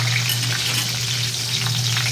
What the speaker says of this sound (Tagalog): Talsik-talsik sa kasi ang prito,